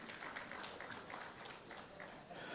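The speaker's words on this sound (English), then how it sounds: "That deserves a round of applause." Audience applause at a football awards ceremony, a steady wash of many hands clapping that holds at an even level throughout, with faint voices mixed into the crowd.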